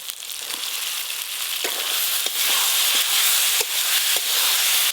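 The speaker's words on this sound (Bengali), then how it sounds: "এবার ভেজে রাখা আলুগুলোও দিয়ে দেব" Previously fried potatoes hit oil-released spice paste in a pan for tilapia fish jhal, a loud, close, continuous sizzle and crackle with occasional sharp stirring clicks.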